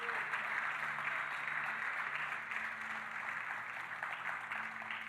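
Church congregation applauding during a Portuguese-language sermon, a steady dense wash of clapping that fills the whole stretch at an even level with faint tonal hum beneath.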